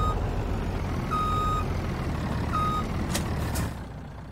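In Farming Simulator 19, a truck's reversing alarm sounds two evenly spaced electronic beeps over a loud, steady engine and air rumble that drops away at the end.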